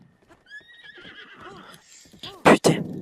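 A horse in the video game Zelda Breath of the Wild gives a clear rising and falling whinny, close and prominent, followed by two loud sharp thumps of movement, with a person talking lightly underneath.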